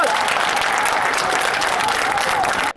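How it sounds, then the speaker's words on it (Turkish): A large crowd at a martyr's funeral ceremony outside a mosque in Bitlis, Turkey applauds, a dense, loud roar of clapping that holds steady and then cuts off abruptly. "Biz alkışlıyoruz, şehidimizi alkışlıyoruz."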